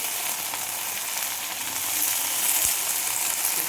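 Okra frying in a pan gives a loud, continuous sizzle up close, steady throughout with no talking.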